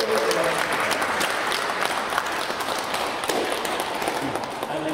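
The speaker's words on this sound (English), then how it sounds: "give Fiona a round of applause" An audience at a Hackney Council event applauds Fiona. Steady, dense clapping from a room full of people continues for the whole stretch.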